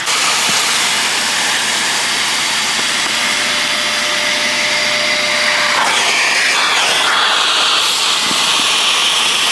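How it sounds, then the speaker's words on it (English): A portable steam cleaner used for mobile car detailing warms up with a loud, continuous hiss and motor roar that stays steady throughout, with a brief shifting whoosh midway and no voices. "go ahead and get the steam cleaner warming up"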